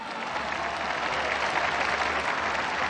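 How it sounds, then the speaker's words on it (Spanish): Audience at a Mexican presidential speech marking three years of government breaks into sustained, dense applause, loud and steady throughout with no voice over it. "Un aplauso"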